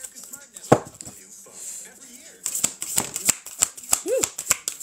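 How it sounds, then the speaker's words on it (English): A deck of tarot cards is shuffled in quick, crisp riffles, a run of sharp flicking bursts that grows busier toward the end, with a person's voice heard briefly early on. "not shuffling nicely"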